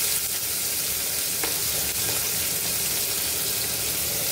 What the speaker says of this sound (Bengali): এইবার এটাকে ভাজতে হবে ভালো করে, একটু কমিয়ে নিচ্ছি